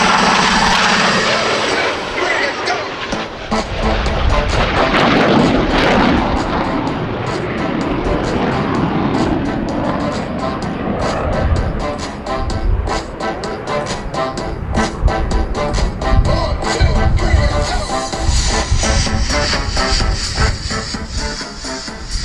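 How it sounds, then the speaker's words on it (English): Blue Angels jets at the 2024 Vero Beach Air Show roar past in an opposing knife-edge pass, a broad, sustained loud rush that swells and fades over many seconds, with a commentator's voice faintly mixed in. "Lieutenant Commander Stengel and Commander Zimmerman will roll their aircraft to 90 degrees angle of bank and push forward on the stick as they perform the opposing knife edge"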